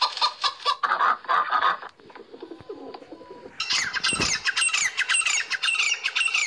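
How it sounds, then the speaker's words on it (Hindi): Bird calls played back from a children's animal-sounds app, a run of clucking and cooing fowl and pigeon sounds followed by busier, brighter chirping, fairly loud and steady with no talk. "यहाँ से हम पक्षियों की आवाज़ भी सुन सकते हैं।"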